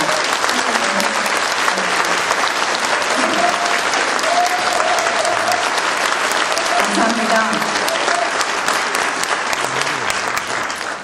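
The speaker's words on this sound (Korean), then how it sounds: "이 어려운 결단을 하신 이분들께 한번 큰 박수를 좀 보내줬으면 좋겠습니다" Sustained, loud applause from a large crowd at a Democratic United Party leadership rally in the Busan, Ulsan and South Gyeongnam region, steady clapping filling the whole stretch with a few voices mixed in underneath.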